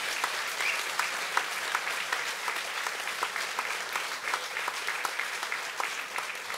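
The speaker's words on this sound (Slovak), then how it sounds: "Veľký potlesk." Audience applause at a village poetry and accordion music evening, a steady dense crowd clapping that holds evenly for several seconds without voices.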